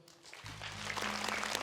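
Applause for a Quran recitation group on a televised recitation show swells in after a brief quiet, growing into a broad, steady clapping from an audience that carries on to the end.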